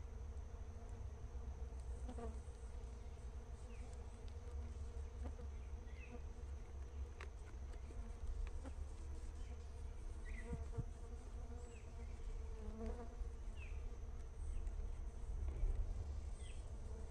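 Jatai stingless bees (Tetragonisca angustula) buzz in a dense, continuous drone during a hive transfer in the forest, with occasional nearer insects zipping past and small clicks of handling.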